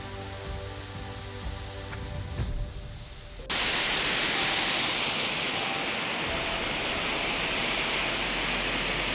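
Amritdhara Waterfall in Manendragarh, Chhattisgarh roars as a steady, loud broadband rush of falling water, which grows sharply louder partway through and holds at that level to the end.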